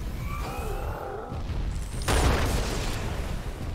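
A single sharp gunshot blast bursts out midway through a busy, noisy Halo 2 game soundscape, followed by lingering rumble.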